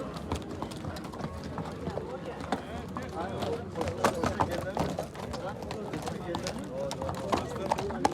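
Horses' hooves clop on the ground at a horse market selling buzkashi horses, irregular and close, while people talk throughout.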